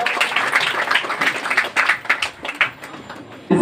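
Audience at a coaching centre award ceremony for Bihar board exam results claps together, a dense, steady burst of applause heard up close that fills the whole stretch.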